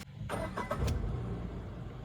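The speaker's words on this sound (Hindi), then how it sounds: "तो चलो मैं गाड़ी को स्टार्ट यहाँ पे" A 2026 Tata Punch car engine cranks and fires up nearby, then settles into a steady low idle with no talking.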